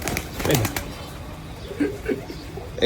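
A white-tailed, heavy pigeon is let go from a hand and claps its wings in quick bursts, a close flurry of flapping early on followed by softer flutters, with light background voices.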